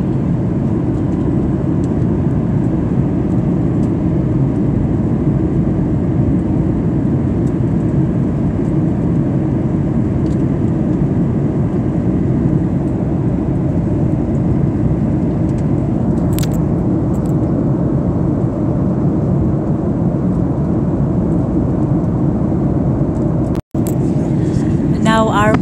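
Airplane engine noise fills the cabin during a flight from Iceland to Stockholm: a loud, constant low rumble and drone that runs throughout, with a brief dropout near the end.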